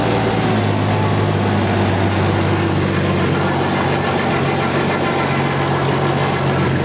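Turbine-equipped machine with a milling cutter revving in second low gear, a steady, loud, dense engine roar held close throughout without any talking.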